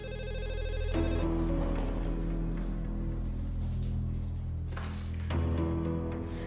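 A mobile phone rings with an incoming call from parents, a steady repeating electronic ringtone that plays continuously and fairly loudly, with a brief change in tone partway through.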